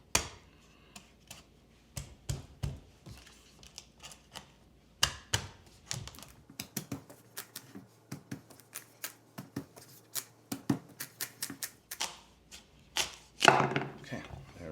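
Heavy-duty knife chopping through the hard end of a spaghetti squash on a board, a run of loud, sharp, close thuds and clacks at irregular intervals, with brief pauses between strikes and a heavier cluster near the end.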